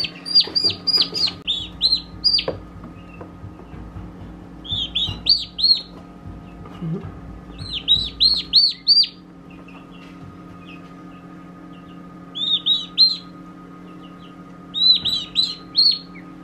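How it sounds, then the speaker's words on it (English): High, thin peeping chirps from turkey poults under a heat lamp come in repeated bursts, close by, over a low steady hum. "These are turkeys. They're under a heat light right now."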